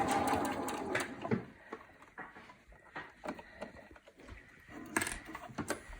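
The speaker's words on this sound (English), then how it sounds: "Stitch all the way around." A sewing machine stitches around a pleated fabric face mask in close, uneven runs of rapid mechanical chatter broken by pauses.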